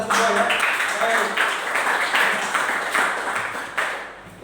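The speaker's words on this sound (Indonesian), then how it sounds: "tepuk tangan untuk kita semua ya" Students in a classroom clap together, bursts of applause with rhythmic hand claps rising and fading over a few seconds, fairly close and loud.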